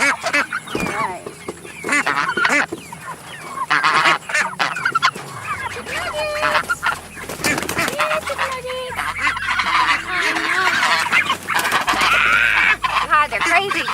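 Farmyard ducks and geese quack and honk loudly and repeatedly throughout, a busy overlapping flock close by, with a person talking among them.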